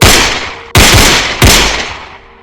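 Three loud, close gunshots fired at a cockfighting event, each a sharp crack followed by a long decaying echo, spaced about two-thirds of a second apart.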